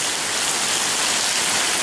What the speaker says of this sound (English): We are getting a major thunderstorm, lots of rain.